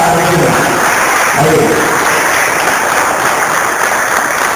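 An audience at an international congress applauds in a loud, continuous patter of clapping with a faint voice briefly audible underneath at the start.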